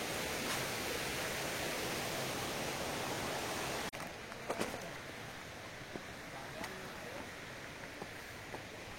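The Machakandana waterfall in a Mayurbhanj forest pours as a steady, broad rushing roar, loud and continuous for about four seconds before dropping to a softer, closer wash with a few faint clicks and knocks.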